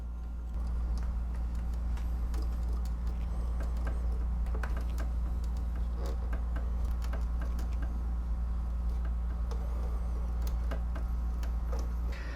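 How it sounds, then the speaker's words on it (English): Small IP screws driven into the parts of a DeLorean scale model kit, heard as faint irregular ticking clicks over a steady low hum. "Now we can go back and add the 2 IP screws to the set of holes that we skipped over."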